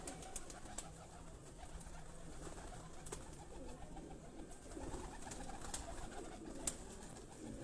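Pigeons coo in a low, soft, continuous murmur at a rooftop loft where birds are kept for flying contests, with a few sharper bird calls and clicks over the top.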